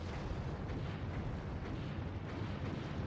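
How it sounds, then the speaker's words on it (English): Artillery barrages from the wargame Lock and Load Tactical Digital roll out as a continuous, dense rumble of overlapping explosions, loud and unbroken with no distinct single blasts standing out. "it's so pretty because it makes all the hexes have an explosion in it"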